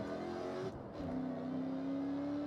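A race car engine in the video game Forza Horizon 6 revs high and then drops off as the throttle lifts, with exhaust pops, followed by a sustained steady engine tone; no talking is heard.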